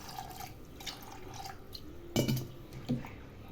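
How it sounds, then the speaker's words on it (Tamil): Water goes into a pot of soaked chickpeas and green peas before boiling, with soft trickling and a few brief louder splashes near the end, no talking. "தண்ணி விட்டுக்கலாம்."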